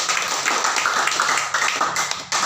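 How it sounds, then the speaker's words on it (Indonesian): A room of people at a rehab centre's morning meeting clap together, a dense, steady patter of many hands that carries on throughout at moderate loudness. "Tepuk tangan dulu untuk kamar Yokebet"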